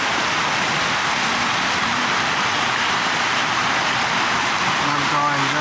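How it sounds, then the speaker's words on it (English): Steady outdoor rainfall gives a dense, loud hiss that runs unbroken throughout, with a faint tonal sweep of passing traffic near the end. "it's raining"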